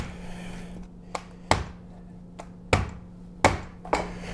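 Fresh conch pounded with a wooden rolling pin on a kitchen counter, a series of sharp, irregular thuds, some loud and close, others lighter, over a faint steady hum.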